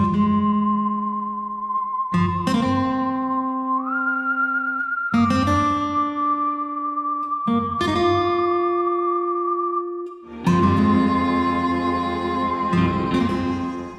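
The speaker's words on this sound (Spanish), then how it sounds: "Vamos a suponer que queremos empezar con el silbidito." A whistled melody from a stock music track plays as a bright, steady tune that steps between held notes over a sustained backing, growing fuller and busier in its final seconds.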